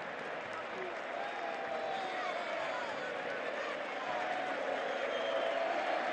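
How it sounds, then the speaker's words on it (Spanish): A stadium crowd at an Independiente Rivadavia football match applauds player José Méndez, a steady broad wash of clapping and crowd noise with a commentator's voice running over it throughout. "Los aplausos para Méndez."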